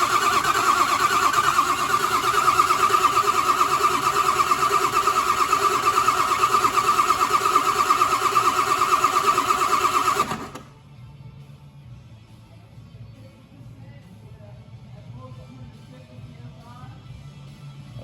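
A 1957 Ford F600 truck engine cranking and running loud and close for about ten seconds, then cutting off abruptly, leaving a quiet low hum.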